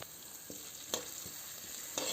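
Long-sliced onions frying in a pan for chicken biryani, a steady hissing sizzle with a few soft stirring scrapes and clicks, close and alone.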